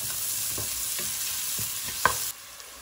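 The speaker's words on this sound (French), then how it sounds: "Je vais faire revenir l'ensemble pendant 2 minutes tranquillement." Chili, bay leaf and onions sauté in a pan for chicken curry with a constant loud sizzle, while a utensil scrapes and stirs in a few soft strokes and a brief clink.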